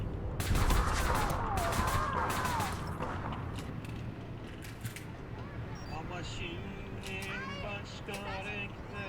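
Gunfire in a shooting video game: bursts of rapid shots crackle loudly at first, then scattered single shots and game effects continue while players talk excitedly over them.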